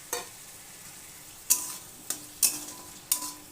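Chopped medium tomatoes stirred with spices in a pan, with a steady faint sizzle broken by four sharp scraping strokes of a spoon against the pan.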